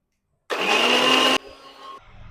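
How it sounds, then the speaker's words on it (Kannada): A mixer grinder grinds egg masala paste with a loud, close, high-pitched whirring roar that starts abruptly, runs for about a second and cuts off, leaving a quieter winding-down hum. "ಇದನ್ನು ಗ್ರೈಂಡ್ ಮಾಡ್ಕೊಳ್ಳೋಣ."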